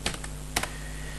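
Close computer keyboard typing while entering HTML code, a few quick clustered key clicks with a short gap between bursts, over a quiet room hum.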